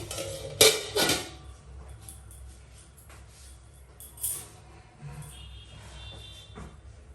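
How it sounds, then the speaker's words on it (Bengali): A metal lid clanks onto a cooking pot of water on a gas stove: a couple of loud close metallic knocks near the start, then quieter scattered clinks and soft rattles in a calm kitchen. "জলটা একটু গরম হোক, তাড়াতাড়ি গরম হওয়ার জন্য জলটা ঢাকা দিয়ে দিচ্ছি।"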